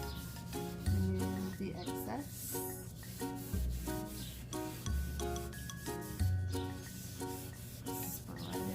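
A cloth rubs excess wax off a painted wooden sideboard in steady back-and-forth strokes, close and moderately quiet, with a brief soft voice now and then.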